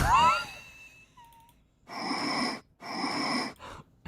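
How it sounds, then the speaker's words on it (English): Breathing sound effects: several loud, close breath bursts, long inhale- or exhale-like rushes with short gaps between them, following a brief squeaky electronic blip at the start. "Why are there just like 12 RFK breathing sounds?"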